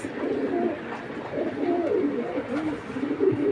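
Pigeons coo continuously in overlapping low, rolling burbles, close and fairly loud, several birds layering their throaty calls without pause and no voice over them.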